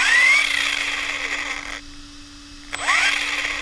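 Sensorless brushless motor of an Exotek Losi Mini 8ight T RC truck whines up in short rising sweeps under slight throttle, with a steady electronic tone and a brief quiet gap between bursts.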